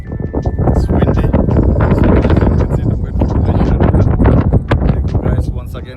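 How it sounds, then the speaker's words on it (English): Strong wind buffets the microphone on an early-morning hike in Wadi Shehah, Ras Al Khaimah, giving a loud, continuous roaring rumble with gusty surges throughout. "It's windy."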